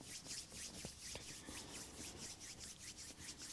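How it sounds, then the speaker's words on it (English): Palms of the hands rubbing together during a yoga stretch session, a soft steady swishing friction repeating in quick back-and-forth strokes, close and quiet with no talk. "And then start to rub the palms of the hands."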